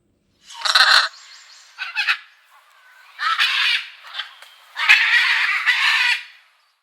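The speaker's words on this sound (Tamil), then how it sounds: "பஞ்சவர்ண கிளி" A macaw gives harsh, raspy squawks: several loud screeching bursts with short pauses between them, heard clearly with no talking.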